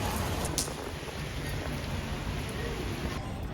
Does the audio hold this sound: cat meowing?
no